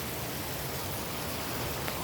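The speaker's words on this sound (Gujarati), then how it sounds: "ધીમા ધીમા વરસાદ આવે બધા જોઈ છે" Light rain falls in Jetpur as a soft, even hiss that holds steady and unbroken for the whole stretch, with no voices or other distinct sounds.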